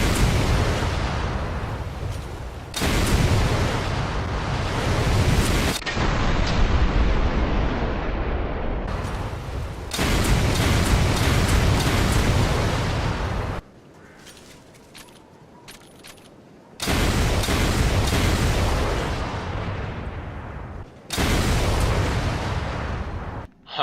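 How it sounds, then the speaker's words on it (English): Rocket launcher blasts in Resident Evil: Revelations 2, a series of loud, booming explosions, each lasting a few seconds with rumbling tails, separated by brief quieter gaps. "let's test the rocket launcher out"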